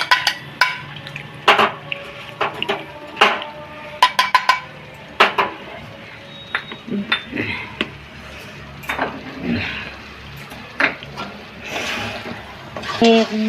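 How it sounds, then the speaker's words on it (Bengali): Fried spices being ground in an old hand grinder, around 150 years old: a run of clattering, knocking scrapes in uneven bursts, close by, with a voice speaking at times. "এইটাই আমি এই ভাজা মশলাটা গুঁড়ো করে নেব।"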